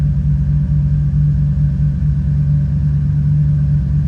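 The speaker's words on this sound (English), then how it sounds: "let the car idle" Turbocharged LS-engined Camaro idling after new cooling fans were fitted, a steady deep rumbling drone with a constant low hum, close and loud with no talk.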